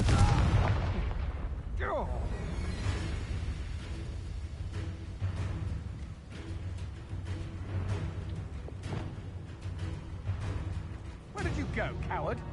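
A Confringo blasting spell from Hogwarts Legacy explodes with a loud opening boom, followed by a run of sharp bursts and rumbling impacts over a steady low in-game background.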